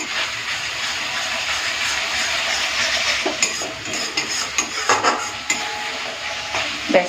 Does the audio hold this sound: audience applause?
no